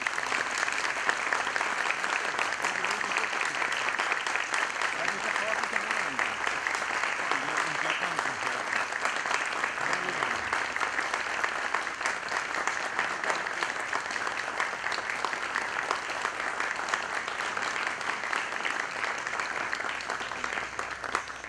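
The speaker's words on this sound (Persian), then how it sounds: "خواهش میکنم مفصل استاد عزیزمان جناب آقای وحیدی رو تشویق بفرمایید." Sustained audience applause at a ceremony honouring Hossein Vahidi, dense and steady throughout, filling the room at even loudness with no pauses.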